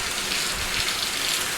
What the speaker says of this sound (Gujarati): અમારે કેટલું વરસાદ ને વાવાઝોડું છે